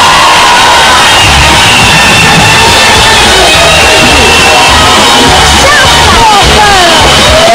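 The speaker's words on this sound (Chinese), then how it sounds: "掌声鼓励一下，谢谢。" A crowd erupts after a ladder levitation magic trick on a stage show: loud, continuous cheering, whoops and shouts fill the whole stretch at a near, overwhelming level.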